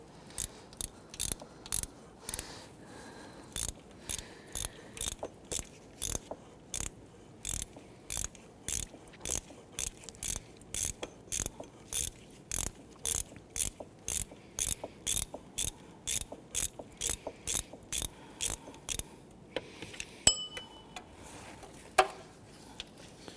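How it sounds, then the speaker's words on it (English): A ratchet with a 14mm socket loosens the idler pulley bolt on a 1992–1996 Toyota Camry 2.2L four-cylinder, sounding as a long series of sharp, evenly spaced clicks, close and crisp, ending with a couple of metallic knocks. "Using a 14mm socket to remove the bolt for that idler pulley."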